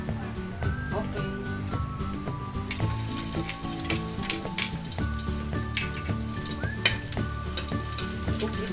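Garlic frying in a pan for sarciadong tilapia, a steady close sizzle and crackle with occasional stirring, while music plays underneath.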